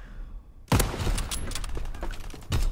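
Gunfire from a Call of Duty WW2 team deathmatch played on Xbox One X: after a quiet opening, a loud crack sets off a dense spell of rapid shots and impacts, with another sharp blast near the end.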